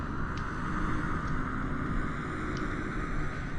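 A Mooney M20R aircraft engine runs in Flight Simulator 2020, a constant, even drone with a steady low rumble and faint high hiss, unchanging throughout.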